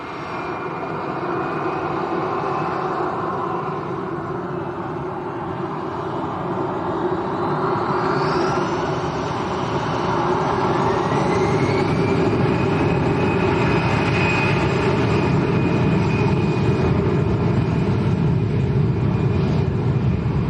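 Volotea Airbus A319 jet at Lanzarote Arrecife airport, a steady broadband engine roar that holds for about twenty seconds and swells slightly toward the end, with a faint rising whine over it.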